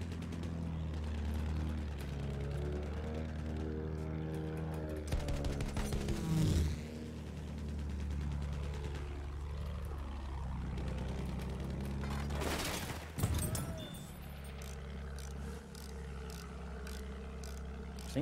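Machine gun fire from a gunner in Battlefield 1, rapid bursts over a constant engine drone, with two sharper volleys partway through and at the end while a voice talks in the background.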